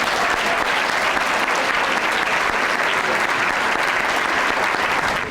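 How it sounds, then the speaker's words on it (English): Applause fills the hall at a 2019 undergraduate recognition assembly as Harold Kim is honored with an award, a loud, dense, sustained round of clapping from a large audience with no pause. "if we can have a round of applause for Harold Kim."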